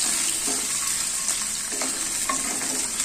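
Mushrooms fry in a hot pan with a steady, dense sizzle throughout, with a few light scrapes of stirring layered over it. No one speaks.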